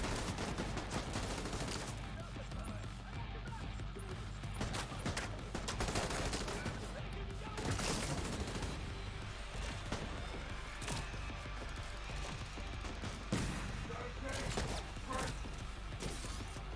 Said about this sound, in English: there's a turret over there